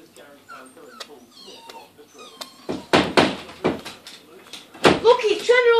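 Scratching and rattling at a door with soft thumps, as a wild baby rabbit paws at it, while people talk nearby and a dog whimpers briefly.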